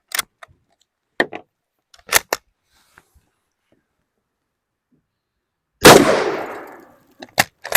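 Yugoslavian M24/47 Mauser bolt-action rifle shooting old Turkish surplus ammunition at soda cans outdoors: sharp clicks and handling noises, then one loud shot with a decaying echo near the end, followed by a few more metallic clicks.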